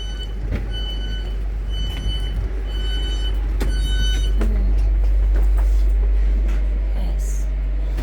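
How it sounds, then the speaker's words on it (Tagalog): A train pulls away from a station platform in Birmingham, UK, with a steady low rumble, faint rail clatter and a few distant high tones, people talking nearby underneath. "Walang paligoy-ligoy, umalis na yung train."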